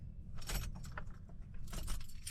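Keys jangling as they are pulled from the ignition of a 1988 Ford Ranger, a close, bright metallic rattle in two clusters of jingling with no talking.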